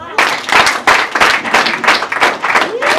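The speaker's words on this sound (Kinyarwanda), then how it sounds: "Mubakomera amashyi ariko." A church congregation at a bishop's installation ceremony claps in a steady, loud rhythm, roughly three beats a second, close and strong with some voices underneath.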